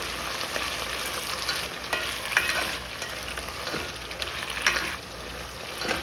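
Beef with cabbage, celery, carrots, ginger, garlic and onions stir frying in a pan: a steady close sizzle with repeated spatula scrapes and stirring clatters throughout, no voices.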